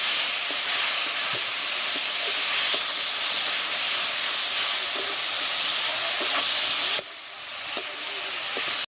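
Masala and tomato fry with a splash of water in a pan, giving a steady, close sizzling hiss with a few soft stirring clicks. The sizzle dips briefly near the end, then carries on.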